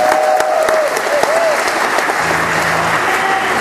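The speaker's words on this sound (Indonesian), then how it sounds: "Tepukan paling dulu." Concert audience applauding at a show in a theatre, dense sustained clapping filling the whole stretch, loud and close, with a voice briefly heard amid the crowd noise.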